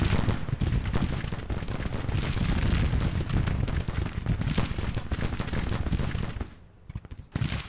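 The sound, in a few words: gunfire in the video game Grand Tactician Civil War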